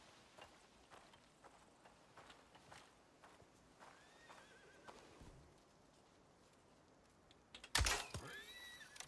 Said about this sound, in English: And there's a horse here.